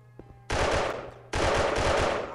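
Two loud bursts of rapid automatic gunfire from the mobile shooter game Special Soldier, the first about a second long and the second longer, each starting abruptly over a low background hum.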